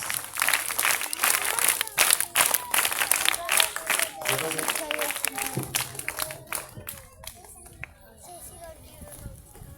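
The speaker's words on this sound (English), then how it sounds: "Give them big clap." A crowd claps in a dense, steady burst of applause with voices mixed in, thinning out and fading toward the end.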